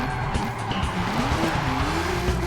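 Corvette Z06 from 2015 locking up its brakes in the Forza Horizon 5 racing game, a steady loud tire skid layered over the engine's low drone, continuous for a couple of seconds with no gaps.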